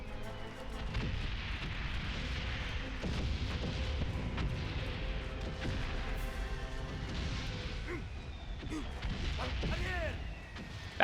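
Booming bomb explosions and artillery-like blasts in the World War I video game Valiant Hearts: The Great War, dense and continuous with crashing impacts, while a person talks over the game sound.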